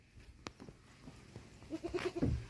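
A goat bleats near the end, a short wavering cry, after scattered rustles, soft thumps and shuffling on a farm where goats have been let out to graze.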